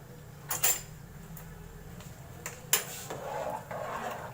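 A spoon stirs pasta in a pot of boiling water, giving a few brief metallic clinks against the pot over a steady bubbling hiss, close and moderately quiet.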